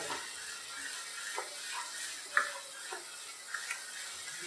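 Paneer masala spices cook over low heat in a pan, giving a quiet, faint sizzle with occasional soft spoon scrapes and light clinks.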